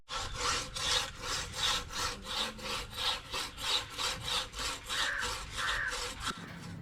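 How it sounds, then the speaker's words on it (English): A hand saw rasps steadily through wood in about fifteen rhythmic back-and-forth strokes, close and loud, with no talking. "After we finished sawing up all this wood"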